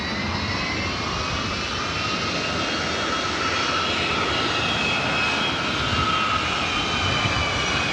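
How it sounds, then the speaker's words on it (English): A Northern Air Cargo Boeing 767 jet taking off in the distance at LAX, bound for Honolulu, a steady, loud engine roar with a broad whine that holds throughout. "Northern Air Cargo 767 taking off there in the distance, heading to Honolulu"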